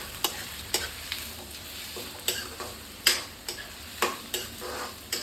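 Onions sizzle in hot oil in a pan, a steady soft frying hiss broken by regular sharp ticks and clinks, likely a spoon stirring against the pan, close and fairly quiet with no talking.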